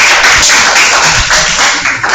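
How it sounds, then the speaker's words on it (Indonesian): A classroom claps for a presenting student group, a dense, loud, continuous patter of many hands that runs steadily and fades slightly at the end. "Beri tepuk tangan dulu."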